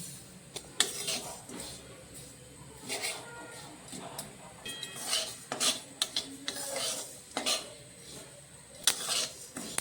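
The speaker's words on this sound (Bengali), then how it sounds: "কড়াইটা গরম হয়ে গেল, আমি গোলমরিচ আর তিলটা ভেজে নিচ্ছি।" Black pepper and sesame seeds dry-roasting in a hot pan, with close, irregular scraping, rattling and clinking as a utensil stirs them against the metal, some strokes sharper and louder than others.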